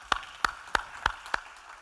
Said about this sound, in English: another round of applause for Gwen